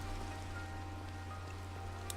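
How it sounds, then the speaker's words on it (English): Rain falls in Minecraft as a faint, steady hiss of drops, continuous and even, with no other sounds standing out. "I actually enjoy the rain."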